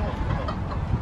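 Chickens cluck close by over a noisy, rumbling background, a busy short stretch of farmyard clucking.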